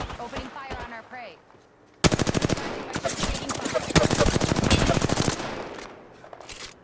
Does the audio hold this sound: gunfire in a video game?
yes